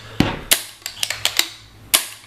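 A Bob Long MVP pump paintball gun being fired, several sharp pops with quick mechanical clacks of the pump stroke between them, close and crisp with short gaps.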